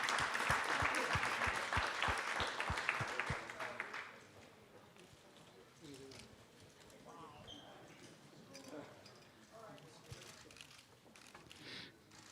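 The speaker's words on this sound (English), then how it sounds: "give them a round of applause." An audience at a Star Wars Celebration fan event applauds the Return of the Jedi cast, a dense burst of clapping with rhythmic thumps that fades after about four seconds into quieter hall noise and talk.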